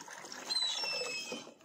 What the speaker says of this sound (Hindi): ये देखो पानी आ रहा है इसमें